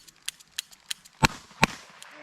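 A shotgun firing flame shells outdoors, with a few light clicks followed by two sharp, loud blasts about half a second apart, each trailing off in a crackling tail.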